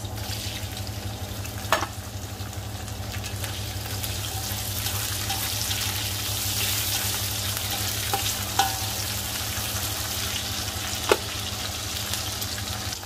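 Tomatoes are stirred into a hot pan of sizzling oil while cooking sautéed mung beans, a steady close frying hiss with a few sharp clicks from the utensil against the pan and no talking.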